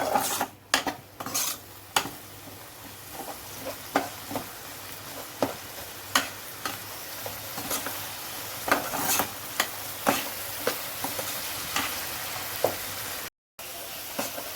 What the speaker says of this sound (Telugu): ఇదిగోండి, టమాటా పచ్చిమిర్చి అయితే వేగిపోయింది బాగాను.